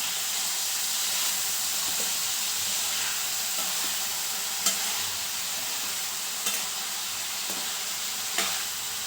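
Carrots fry in a pan for a Rayalaseema-style carrot fry as salt is stirred in, giving a steady, fairly loud sizzling hiss. Faint scraping strokes from the stirring rise above it now and then.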